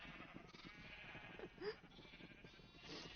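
Sheep bleat in Minecraft amid a steady crowd of game ambience, with one clearer bleat standing out near the middle and more overlapping softly around it; no one speaks.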